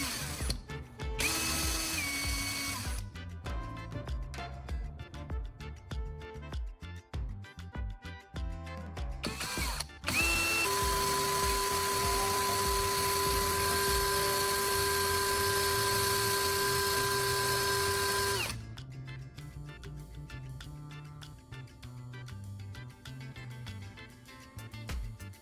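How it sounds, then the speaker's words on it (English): A carbon rod ground to a point against a spinning sandpaper disc, a loud motor whine with a steady tone broken by several starts and stops and a long continuous run. "I sanded the carbon rod on a sandpaper disc to create a pointed soldering iron tip"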